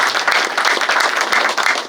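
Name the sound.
audience applause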